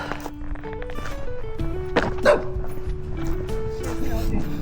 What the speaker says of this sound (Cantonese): 估唔到最後都要俾狗吠